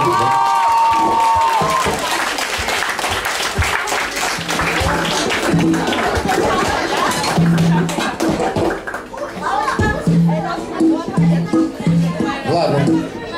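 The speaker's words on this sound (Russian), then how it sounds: "поприветствуйте его, пожалуйста, аплодисменты" A club crowd greets a performer with loud, dense applause and cheering, whoops rising over the clapping, while voices and a bit of chatter mix in underneath.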